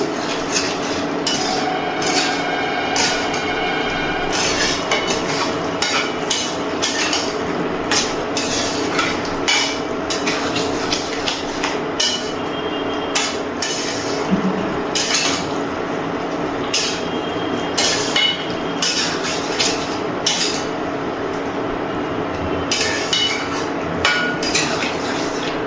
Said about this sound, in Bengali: এবার সব কিছু নাড়াচাড়া করে মিশিয়ে নিচ্ছি।